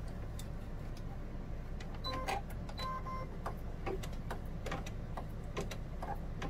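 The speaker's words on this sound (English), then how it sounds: "And it's going to sew a line down there." An embroidery machine sewing a line of stitching, giving a steady mechanical whir under a run of quick ticks and clicks, close and fairly quiet.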